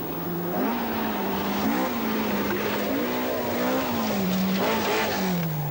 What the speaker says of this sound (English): chasing Gallagher in his crinkled Talbot